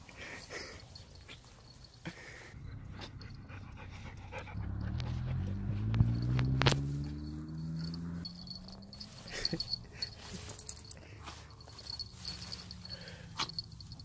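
A Siberian husky pants steadily and close by on an outdoor walk through grass and shrubs, with soft rustling footsteps and faint insect chirps around it.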